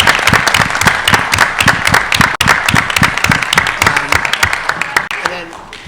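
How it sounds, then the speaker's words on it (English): People at a school board of education meeting applaud students, a nearby round of sharp, distinct claps with a few voices mixed in, tapering off near the end. "just so we can give you a round of applause"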